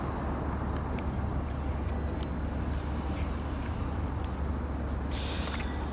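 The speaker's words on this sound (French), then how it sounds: "Ah, les voitures, c'est vrai que ça fait du bruit aussi" Steady low rumble of road traffic with cars passing continuously, a constant drone filling the background without pauses.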